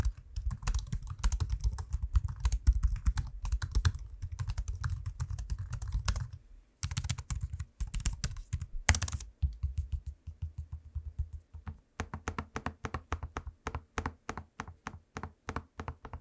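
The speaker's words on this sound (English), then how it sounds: "Now I'm gonna give you a quick little noise test of the keyboard and trackpad in use so you can hear what that sounds like." Typing on the keyboard and tapping the trackpad of a 2024 Asus ROG Zephyrus G14 laptop, with dense rapid key clatter for several seconds, a short pause, then sparser clicks and steady quick keystrokes, close and clear with no talking.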